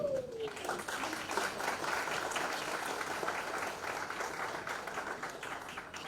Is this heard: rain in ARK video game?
no